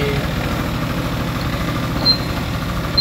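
A Honda Gyro-type two-stroke scooter idles close by with an even, steady low rattle, and two faint high chirps cut through the hum.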